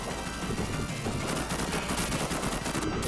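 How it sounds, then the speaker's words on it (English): Rapid bursts of electronic gunfire from a retro arcade shooting game, dense and continuous over a busy game soundtrack, fairly faint overall with no talking. "I keep shooting the other way"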